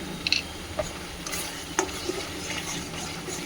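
Yogurt and spices are stirred in a pan with scraping and clinking, plus a faint sizzle under the strokes. Close and soft, irregular, with no talking.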